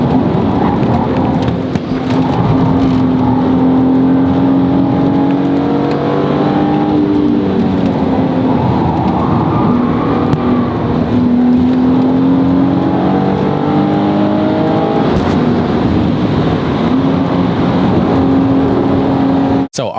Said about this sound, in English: The best sounding car in the world, in my opinion. The V10 from the Lexus LFA.